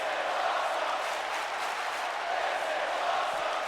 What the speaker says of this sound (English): this crowd is chanting